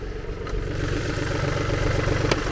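A BMW 218d's B37 three-cylinder diesel idles with a rough, uneven chugging, close and steady throughout, with a couple of faint clicks over the engine note.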